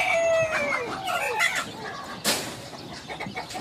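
An Arab chicken rooster crows loudly up close, a long wavering call followed by clucking and general farmyard noise.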